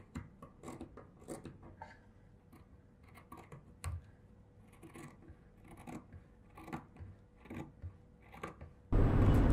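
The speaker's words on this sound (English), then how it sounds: "I can start cutting now." Scissors snip through dress fabric in a quiet room, a run of short, close cutting strokes in an irregular rhythm, ending in a sudden loud burst of noise.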